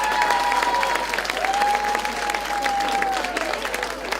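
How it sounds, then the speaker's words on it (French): Applause from a quiz audience for the two winning gentlemen, a steady dense clapping throughout with a faint tonal whistle or feedback line running beneath it. "Deux messieurs méritent tous vos applaudissements"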